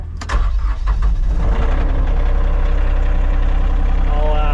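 An ASV RT40 compact track loader's loud diesel engine starts up and settles into a steady, rumbling idle close by, with a deep throbbing low end throughout.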